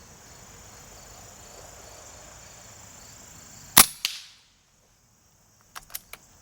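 AirForce Talon P .25 air pistol firing a single sharp shot with a short echoing tail, close and loud over steady outdoor cricket chirping, followed by a few faint metallic clicks.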